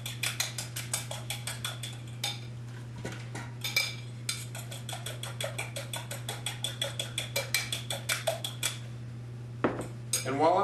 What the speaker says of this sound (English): And I need a fork. And I'm going to beat these